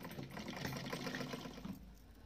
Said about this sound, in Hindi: दूसरी तरफ भी ऐसे ऐसे भी सिलाई लगा देंगे